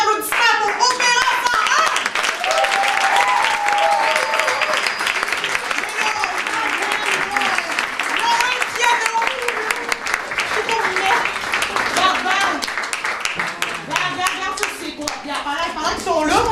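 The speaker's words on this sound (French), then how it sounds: "je vous demande de faire un honneur d'applaudissement pour Opéra" A lively audience claps for the performing group Opéra 101 at a women's event. The dense, continuous applause runs throughout, mixed with cheering voices and children's chatter.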